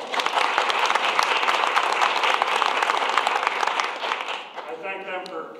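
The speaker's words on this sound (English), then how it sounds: "So if you could give them a round of applause." Applause for teachers at a school board of education meeting: dense, steady clapping from a roomful of people that holds for about four seconds, then thins and fades as a voice begins speaking.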